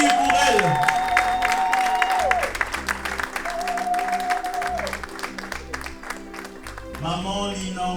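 Guests clapping at a traditional wedding celebration, a sustained patter of applause mixed under loud music with singing voices.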